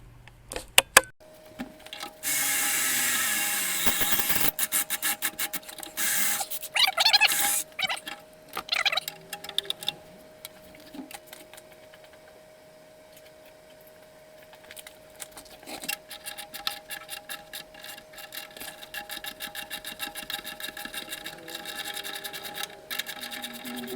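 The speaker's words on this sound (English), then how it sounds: "just gonna try out a couple of different Sawzall blades and see which one cuts that the easiest" A Sawzall reciprocating saw cuts through a loaded beam during a Cadillac 500 engine swap into a Winnebago, giving a loud, buzzy, rapidly pulsing rattle in several bursts with pauses, fading to quieter intermittent cutting.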